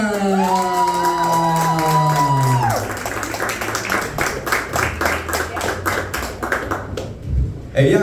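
A comedy club crowd in New York City claps and cheers for a comedian. Dense applause builds over a rising music sting and sustained chord, while a host's voice speaks over it. Whoops come and go, and the noise fades near the end.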